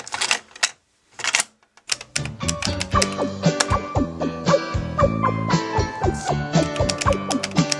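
Frantic, rapid clattering on a computer keyboard, dense overlapping keystrokes hammered in bursts, loud and close, joined by electronic beeping tones after the first couple of seconds.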